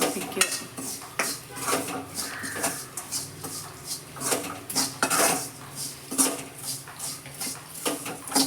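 A metal spoon stirs chilli powder as it roasts in a pan for chammanthi podi (chutney powder), with repeated close clinks and scrapes against the pan in an uneven rhythm.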